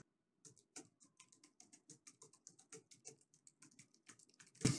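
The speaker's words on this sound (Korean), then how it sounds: "키보드를 치는 소리라든지" Typing on a computer keyboard picked up by a noise-cancelling conference microphone, a quiet, irregular run of crisp key clicks with short pauses, close and alone, ending in a louder thump.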